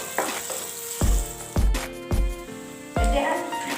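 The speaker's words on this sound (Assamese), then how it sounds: "এতিয়া আমি কাটি ৰখা পিঁয়াজখিনি আৰু কেঁচা জলকীয়াটো ভাজি ল'ম" Chopped onions and green chili fry in oil, a sizzle broken by several sharp utensil knocks against the pan at uneven intervals, close and fairly loud.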